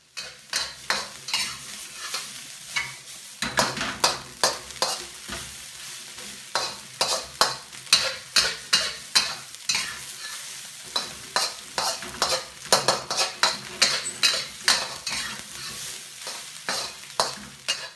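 Cold cooked rice stir-fried in a wok, broken up and turned with a utensil, giving steady sizzling and frying under repeated sharp scraping and clacking strokes in an uneven rhythm, close and fairly loud with no talk.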